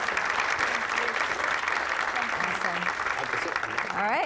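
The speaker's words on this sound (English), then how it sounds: "So I think all of you should be clapping for yourselves." Studio audience applause on a Rogers TV talk show, a dense steady patter of many hands clapping throughout, with voices faintly underneath and a brief vocal sweep near the end.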